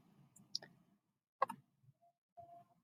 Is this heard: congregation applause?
no